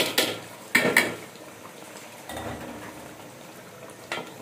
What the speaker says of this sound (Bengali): এবার আমি ধুয়ে রাখা চালগুলো এর ভিতরে দিয়ে দেবো।